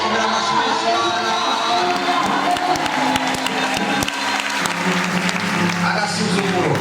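Congregation at Narada Holy Church applauds during a service, a loud, continuous wash of many hands clapping mixed with cheering and crowd voices throughout.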